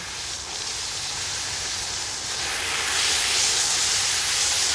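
A steam cleaner works over car floor mats, giving a loud, continuous hiss that swells slightly partway through, with no voices.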